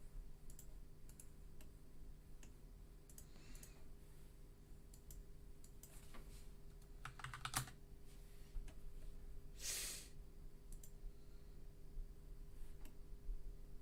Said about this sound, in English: The rattle of a mechanical keyboard.